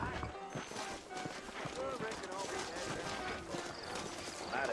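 Horse hooves clop steadily on the ground in the Red Dead Redemption game as horses move through a town, a continuous rhythmic patter under talking voices and other background noise.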